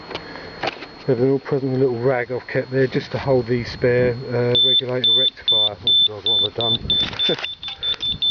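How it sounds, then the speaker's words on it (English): A motorcycle alarm bleeps in a steady run of short, high, evenly spaced beeps, close by, partly under someone talking as he checks the bike's toolkit and spare regulator rectifier. "That's just the alarm bleeping."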